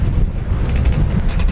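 Strong wind roars across a microphone aboard a sailboat at sea, a loud gusting buffet mixed with the rush of water and waves.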